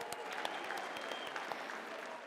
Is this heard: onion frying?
no